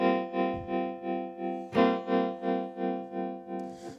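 A Chase Bliss Gravitas analog tremolo pedal pulses a sustained, harmonically rich tone in an even rhythm of about three swells per second, each fading before the next, with a brief pluck partway through.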